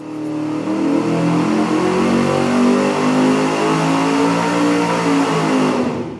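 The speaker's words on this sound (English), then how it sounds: "Next up, the Rumble 2-chamber muffler." A car engine revs steadily through a Rumble 2-chamber muffler, a loud, sustained exhaust drone with layered harmonic tones that holds for several seconds before dropping off, close up with no talking.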